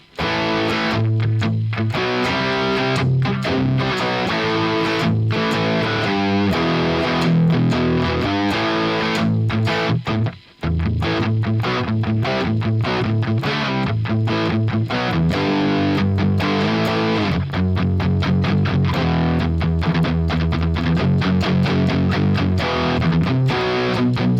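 Loud, distorted electric guitar through an Archetype Nolly X amp simulator with the boost off, playing continuous chords and riffs, with a brief cutout partway through before the playing resumes.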